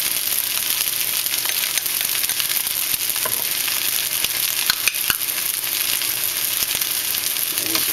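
Bean sprouts and scallion tossed in a hot pan, a loud continuous sizzle and hiss with faint scraping of the utensil throughout.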